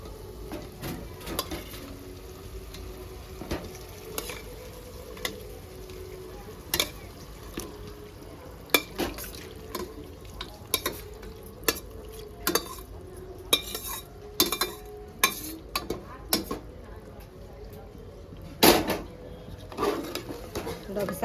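Goat head curry being stirred in a pan, a spoon scraping and clinking against the metal in irregular strokes over a soft sizzle, with a few louder knocks.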